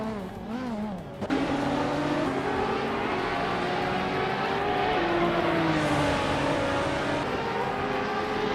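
Racing car engines in a driving game, including a 1994 Toyota Supra GT, a steady loud drone of revving motors with shifting pitch and a sharp gear change early on, with no voices.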